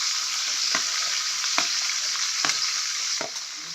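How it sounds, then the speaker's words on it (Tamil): Onion, green chili and garlic sizzle and crackle steadily in hot oil, with a few soft scraping stirs at regular intervals; no voices. "வெங்காயம் பச்சை மிளகாய் பூண்டு பழம் வந்து நான் இப்போ தாளிக்கிறதுக்கு"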